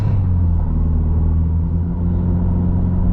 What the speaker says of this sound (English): So let's go on a little ride and you guys can see how it drives.